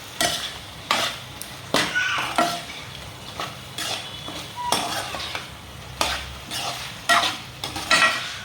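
Chicken being stirred in a pan with salt, turmeric and ginger-garlic paste, a spoon repeatedly scraping and clinking against the metal in uneven strokes over a soft sizzle, with no talking.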